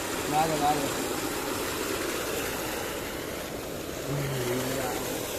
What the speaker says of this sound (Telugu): ఇక మన మోటార్ నడుతుంది